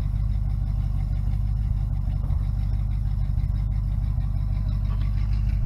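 A 1969 Pontiac Firebird V8 idling after an intake and carburetor swap, a steady deep burbling rumble with an even low pulse, close and loud with no speech.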